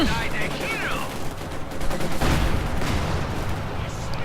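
A grenade blast and bursts of gunfire from the strategy game Company of Heroes 2, striking a clumped group of conscripts; dense, loud battle noise with rolling booms and rattling shots runs throughout, with a high whistling sweep early on.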